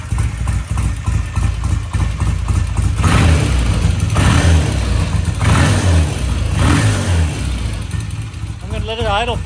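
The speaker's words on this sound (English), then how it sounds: "I've got it running right now, idling." A vintage BSA motorcycle engine idles on a workshop lift, a steady low throbbing rumble with slight surges, loud and close throughout.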